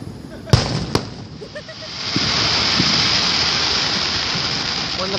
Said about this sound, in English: When the fireworks have seizures.